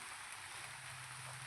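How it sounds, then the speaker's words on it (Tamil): Steady rain falls outdoors near banana and sugarcane fields, a constant soft hiss with no breaks, faint and unbroken. "மழை பெஞ்சிக்கிட்டே இருக்குது பாருங்கள்."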